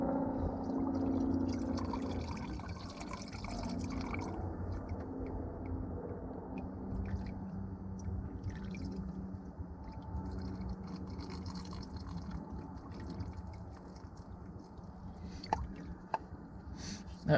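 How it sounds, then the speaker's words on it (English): Diesel fuel spilling and dripping from a truck's fuel filter during a filter change, a close wet trickle and splatter with scattered drips and a few sharp taps near the end. "Now you will probably spill a little bit of fuel doing this."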